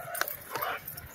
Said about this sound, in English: See, she won't stop barking.